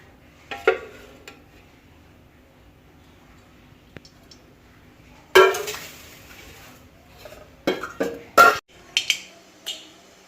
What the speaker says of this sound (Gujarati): પછી એક કઢાઈ લેવાની છે, એમાં 2 મોટી ચમચી જેટલું તેલ લેવાનું છે